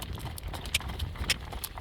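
A horse pulling a carriage on a drive trots in a steady clip-clop rhythm, its hooves close and clear over light background noise.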